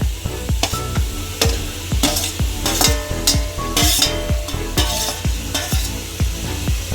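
Tomatoes frying in a pan for a cucumber chutney, with loud close sizzling under a quick repeated rhythm of spoon or spatula knocks and scrapes against the pan.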